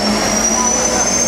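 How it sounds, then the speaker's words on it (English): Jet-powered car at a classic car concours event at Villa Erba, a loud continuous turbine roar with a high whine, steady and close, no talking. "Here it comes, the jet car."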